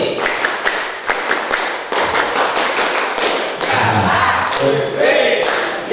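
Scouts of Hizbul Wathan clap the 'tepuk hawe' pattern together, crisp unison claps in a rhythmic sequence, then group voices chanting along near the end, loud and close.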